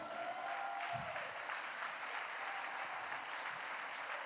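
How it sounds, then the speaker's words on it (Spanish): A church congregation applauds steadily during a sermon, a dense wash of clapping that continues throughout at an even level. "Bríndele un fuerte aplauso"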